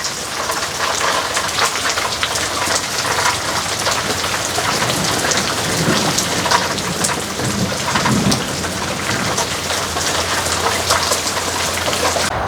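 Heavy rain pours steadily and loudly, a dense hiss of drops on surfaces, while low thunder rumbles roll faintly underneath throughout.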